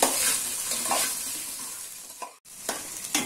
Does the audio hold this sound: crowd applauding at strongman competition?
no